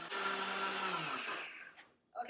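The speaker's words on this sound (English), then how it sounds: "we're going to turn on the blender and we're going to blend this up" A blender whirs loudly and steadily while blending a mustard sauce until smooth, then winds down and stops, followed by a brief clatter.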